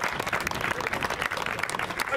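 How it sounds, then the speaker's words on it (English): Crowd applause at an amateur football match, dense continuous clapping throughout at moderate level with some crowd voices mixed in. "Applause."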